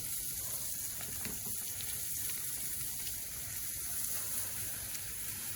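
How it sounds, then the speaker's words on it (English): Butter sizzles steadily with onions on a Big Green Egg, a constant, even frying hiss held at one level throughout, with no voices. "now I'm going to start adding some butter."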